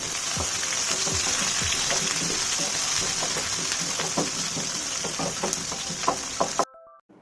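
Onions sizzling and crackling steadily in hot oil in a pan with mustard seeds and cumin, a dense continuous fry with scattered pops and spoon knocks, loud and close, cutting off abruptly near the end.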